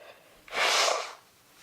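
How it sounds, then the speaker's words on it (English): A person blows their nose once in a single loud, breathy burst lasting about half a second, close to the microphone, with quiet room tone before and after. "I'm blowing my nose"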